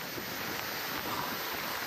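Water pours steadily down a salt mountain in the Iranian desert, making a dense, continuous rushing roar with no breaks for the whole moment.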